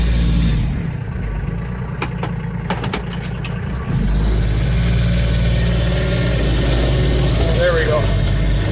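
Kioti K9 tractor engine labours under load in rear-wheel drive on rough ground, a steady close rumble that rises slightly in strain midway, with a voice talking over it.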